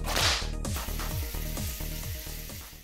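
A whip cracks in an anime scene with a short swishing lash near the start, then a steady rhythmic musical beat carries on underneath.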